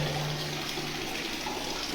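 Water gushes from a borewell pipe down into an open well on a Rajkot farm, a steady broadband rushing splash that holds constant and fairly loud throughout with no voices.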